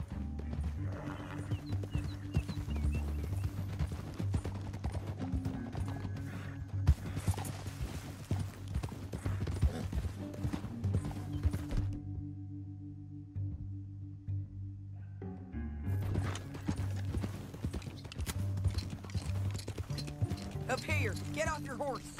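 Horse hooves clip-clop at a riding pace in a canyon in the Western video game Red Dead Redemption 2, repeated and steady, set beneath a bed of music and game sounds.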